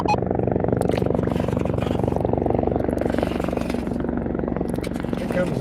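A helicopter flies overhead outdoors at a metal detecting site, a steady low rotor drone that holds throughout, moderately loud beneath ongoing talk.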